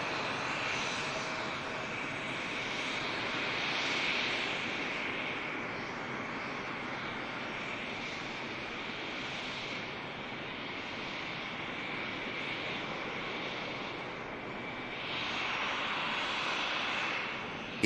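An EasyJet passenger jet arriving from Amsterdam at Manchester Airport roars steadily in the middle distance, its engine noise swelling and easing slightly as it rolls along the runway.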